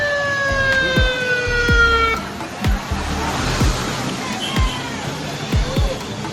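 Ambulance siren wailing and sweeping in pitch as the vehicle races along a road in Samarinda, East Kalimantan, loud and close at first, then broken by repeated short horn-like yelps amid traffic rumble.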